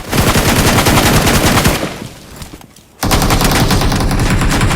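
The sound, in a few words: gunfire in a video game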